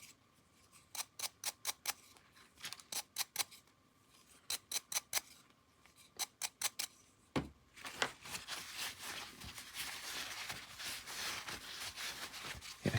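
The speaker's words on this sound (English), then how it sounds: "And the stuff that's in the gear teeth, I can just brush out." A small brush scrubs old grease from the gear teeth of a Bachmann Spectrum DASH 8-40CW model locomotive, with quick rhythmic bursts of crisp scratching strokes in groups, then a steadier softer rubbing.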